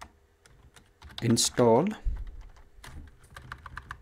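Computer keyboard keys clack as a command is typed into a Kali Linux terminal, a steady run of close, crisp clicks spread through the clip, briefly overlapped by someone speaking in the middle.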